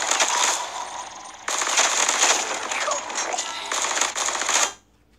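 Rapid automatic gunfire from a newly acquired gun in the Black Ops 3 zombies map Kino Der Toten, loud and sustained in bursts with brief pauses, then cutting off abruptly.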